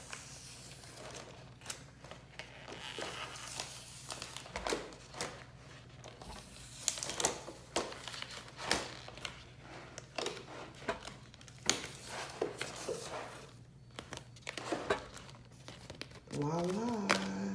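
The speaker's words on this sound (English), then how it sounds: "So as I lift off the paper, the stickers should remain on the cutting mat." Paper is peeled off a Cricut cutting mat, leaving cut stickers behind, with a steady crinkling and rustling broken by sharp crackles and tearing-like peels. It is close and fairly quiet, and a voice comes in at the end.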